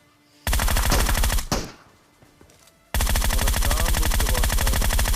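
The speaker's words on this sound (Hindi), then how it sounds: "तभी राइट साइड से M4 चली" M4 rifle fire in a battle royale video game, loud rapid automatic bursts of shots, one long string, a short pause with fading echo, then another sustained volley.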